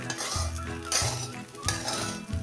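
Sabudana khichdi made with steamed, boiled potatoes being stirred and sautéed in a pan, a spoon scraping and clinking against the metal in a few irregular strokes, close and moderately loud with no talking.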